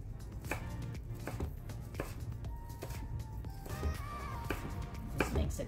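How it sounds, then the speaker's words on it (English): A knife chops shallots on a cutting board in a steady run of quick, crisp taps, close and fairly soft, with no talking over it. "we're gonna chop the shallots"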